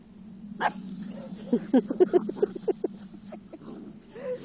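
Two dogs, one of them a terrier, growl and bark while playing indoors, with a rapid burst of yips and barks in the middle over a constant low growl. A few short whines come at the start and the end.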